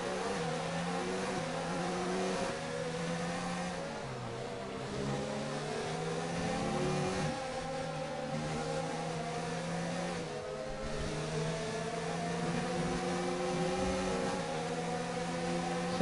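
Several Formula 1 race cars roar and rev in the F1 2019 racing game, engines holding steady high pitches that rise and shift as the cars battle closely, a continuous moderately loud drone without talk.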